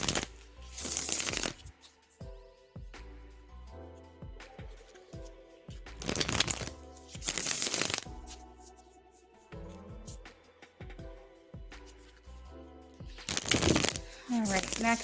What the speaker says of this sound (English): we're shuffling for you now.